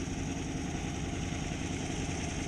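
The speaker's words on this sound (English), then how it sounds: "It's a V8 tractor and it's got no problem." V8 tractor engine pulling a lorry and caravan at a wet, muddy steam rally, a steady, close, rumbling drone with constant vibration and no talk.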